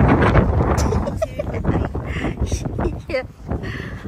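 Strong gusts buffet an outdoor microphone, a rough, uneven roar that swells and drops, with people talking intermittently through it.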